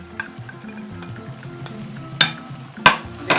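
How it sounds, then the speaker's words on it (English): A spoon stirs palava sauce stew with pieces of smoked, deboned mackerel. A low steady sizzle runs under three sharp scraping clacks of the spoon against the pot near the end, close and clear, with no talk. "Then I stir it gently."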